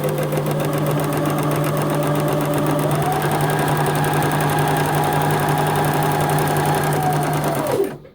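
A sewing machine runs a zig zag stitch along a fabric edge with a steady, loud, rapid mechanical whirr and needle clatter, close up, holding an even pace for about eight seconds before it stops abruptly.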